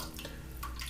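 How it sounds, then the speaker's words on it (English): Water running from a tap into shaving soap lather for a safety razor shave, a faint, brief steady trickle. "I'm going to add some water."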